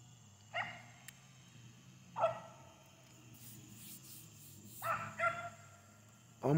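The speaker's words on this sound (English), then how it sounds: "My baby barking" A beagle puppy barks in separate bursts, about four sharp yelps spread out with pauses between, fairly close over a low steady hum.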